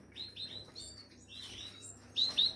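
Caged birds give quick, thin, high chirps in short bursts, fairly close but soft, with a louder pair of chirps near the end.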